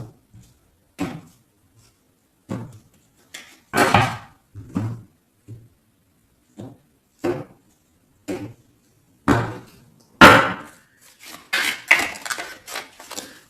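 A deck of Witch Tarot cards being cut and handled makes a string of short, crisp taps and slaps. They come alone, spaced irregularly with silence in between.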